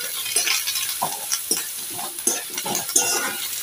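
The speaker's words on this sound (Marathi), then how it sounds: "आपण हे छान परतून घेऊया कांद्याबरोबर." Onion, green chillies and curry leaves sautéing in a pan for prawn masala: a steady close sizzle with irregular scraping stirs of a spoon against the pan, no talking.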